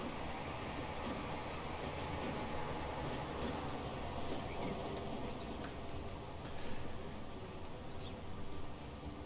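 A train runs along the track in Transport Fever 2, with a steady rolling rumble of wheels and faint high squeals and clicks throughout, fairly distant and continuous.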